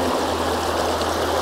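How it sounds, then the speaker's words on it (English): Waterfall flowing in a landscape, a steady broadband rush of falling water heard continuously and fairly loud, with no voices. "I'm focused right on the waterfall at the far end"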